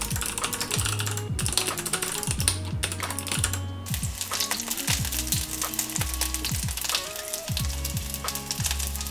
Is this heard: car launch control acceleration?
no